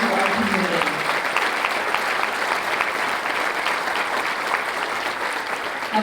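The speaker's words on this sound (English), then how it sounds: "let's give everyone in this room one more round of applause" A room full of people at an education awards ceremony gives a sustained, loud round of applause honoring educators, continuous dense clapping with a faint crowd murmur underneath.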